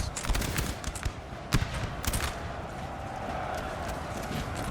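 Volleys of musket fire from Napoleonic infantry in the strategy game Napoleon: Total War, at the Battle of Espinosa de los Monteros in 1808: sharp crackling shots rise over a steady battlefield din, with a few louder bursts early on and more distant firing later.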